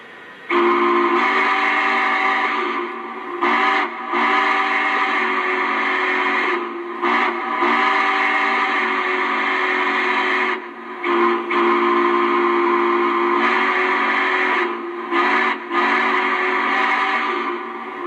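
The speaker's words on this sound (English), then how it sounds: "let's hear the whistle" A Lionel model train's sound system plays a steam locomotive whistle, modeled on the N&W 4-8-4 J-Class #611, in a series of long, loud, steady blasts with short breaks between them, close by and unaccompanied.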